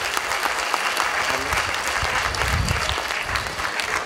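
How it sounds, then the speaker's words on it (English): A dense crowd applauds at a school sports day, honouring a sports society. The clapping is loud, steady and unbroken for the whole stretch. "Please give a big round of applause for Udan Society of Sports."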